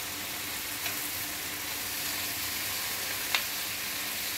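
Four pieces of bacon fry in a pan for a keto breakfast, making a dense, even sizzle with a couple of faint utensil ticks.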